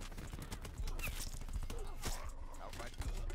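A MOG 12 shotgun fitted with a Dragon Breath mod firing in a video game, with a few sharp reports scattered among busy game noise and a voice talking.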